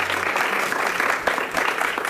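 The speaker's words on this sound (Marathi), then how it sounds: "टाळ्या वाजवा जरा नातेवाईक मंडळी" Relatives applaud in a studio on a Zee Marathi TV cooking show, a short burst of clapping with a faint voice underneath.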